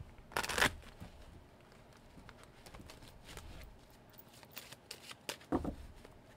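Tarot cards being shuffled by hand at close range, with a burst of riffling at the start and again near the end and softer shuffling and handling in between.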